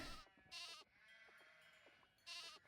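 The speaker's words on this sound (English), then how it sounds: "Happy, happy sheep." Sheep bleating in the Nancy Drew video game The Haunting of Castle Malloy: three loud, short bleats at the start, middle and end, with a quieter game ambience between them.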